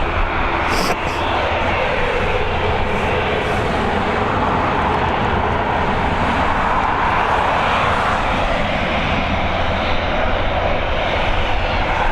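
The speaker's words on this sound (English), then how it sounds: "we've got this A320 heading over to London Heathrow now." An Airbus A320 airliner departs runway 28L at Dublin Airport in the evening, a loud, continuous jet engine roar that holds steady throughout without fading.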